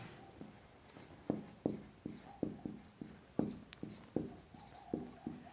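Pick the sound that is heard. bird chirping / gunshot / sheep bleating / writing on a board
writing on a board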